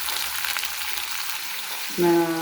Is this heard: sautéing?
yes